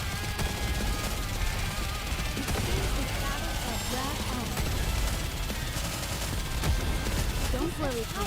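Sustained automatic gunfire from the video game NIKKE rattles on steadily, with character voices heard over the shooting.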